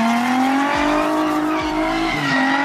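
A car skids with the handbrake pulled, tires squealing in long sliding tones under a revving engine, loud and close, with pitch shifts as the slide changes.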